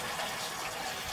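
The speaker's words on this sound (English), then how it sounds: "That's nice clean water." Clean water pours steadily into the engine of a bus engine swapped into an International/Dresser dozer as coolant, a continuous close gushing fill with no talk.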